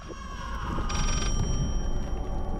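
In the horror video game Layers of Fear, a telephone gives one short, clear ringing burst over a constant low ambient drone.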